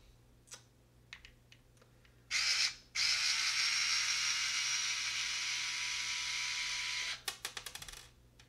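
HOTO 3.6V cordless electric screwdriver driving a screw in, a steady close motor whir lasting about four seconds after a brief first burst, followed by a few quick ratcheting clicks.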